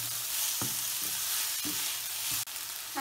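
Onions sauté with curry leaves in a pan for pepper chicken fry, a steady, fairly quiet sizzle broken by a few sharp stirring scrapes and knocks.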